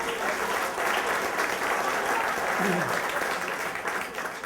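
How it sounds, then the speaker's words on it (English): Dense, steady applause from a story slam audience in West Chester, a continuous wash of clapping that holds at even loudness and tapers slightly at the end. "Big round of applause for Mike, ladies and gentlemen."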